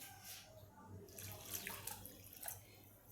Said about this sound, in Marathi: आता यामध्ये जेवढं लागेल तेवढंच पाणी मी घालणार आहे